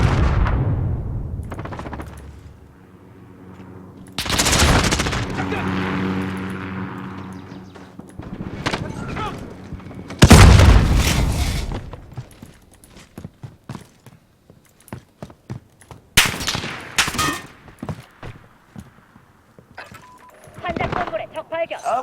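Rifle fire from a SCAR in Modern Warfare, heard as several loud bursts and single shots spread through a busy match, with game voice callouts and other battle noise around them.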